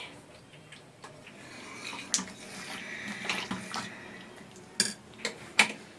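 Pots, pans and dishes are washed by hand in a home kitchen, with quiet, irregular clinks and clanks of metal and a few sharper knocks over faint running water.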